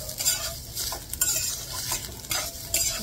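Grated coconut roasting in an iron kadhai, stirred with a spatula that scrapes the pan in repeated rough strokes over a soft, steady sizzle, close and moderately loud, with no voices.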